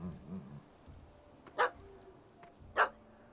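A puppy in The Witcher 3: Hearts of Stone barks twice, sharp and spaced apart, against quiet game ambience.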